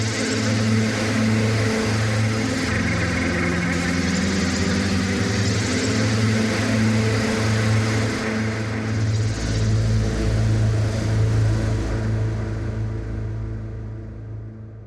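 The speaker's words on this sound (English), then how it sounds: "Let's go to deep mod random shifts, synth and strings." A hybrid synth-and-strings patch from the Expanse string sample library, using a deep modulation random-shift preset: a dense, sustained droning pad with layered tones and a low pulsing undercurrent, held for about fifteen seconds before slowly fading.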